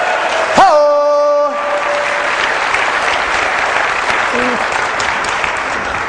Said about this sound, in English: Can we have a big round of applause for Lupita?